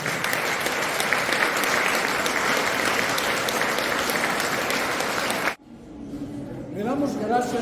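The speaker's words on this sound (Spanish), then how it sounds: "Den un aplauso" A church congregation applauds after a sermon: loud, steady clapping from many hands lasting about five seconds, then cutting off abruptly as a voice begins speaking.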